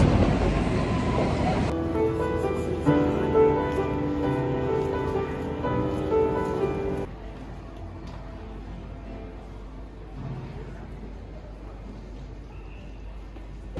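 A London Underground metro train rumbles loudly and steadily for about seven seconds, then drops to a quieter, lingering hum as it recedes or settles, with faint background murmur.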